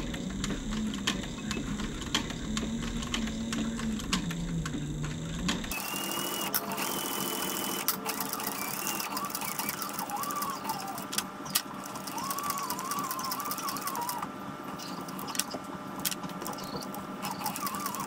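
A sewing machine stitches a custom leather tie, a fast steady mechanical whirring and clatter running continuously and close, with faint background sounds and a shift in tone partway through.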